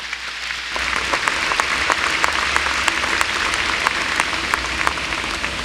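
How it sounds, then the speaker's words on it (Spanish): A church congregation claps to welcome a preacher to the pulpit, a sustained, even wash of many hands with sharp individual claps popping through, loud and close, and no talking over it. "Vamos a recibirlo con un fuerte aplauso, por favor."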